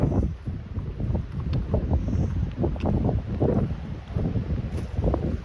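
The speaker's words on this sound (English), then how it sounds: "I suspect the wind is going to be too much for the video" Gusting wind buffets the microphone outdoors on an Appalachian Trail thru-hike, a continuous low rumbling roar with fluctuating intensity and no talking.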